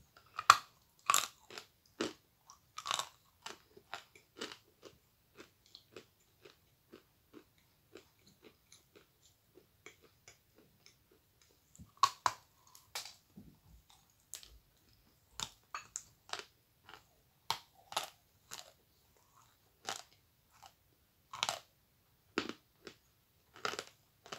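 Someone bites and chews pieces of Velvet brand chalk: sharp crunchy bites followed by quieter grinding chews in irregular bursts, very close to the mouth, with short pauses and no talk.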